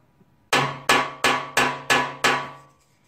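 Six sharp metallic taps from a small paintless dent repair blending hammer, evenly spaced at a steady rhythm, each ringing briefly before the next, close and clear with no talking.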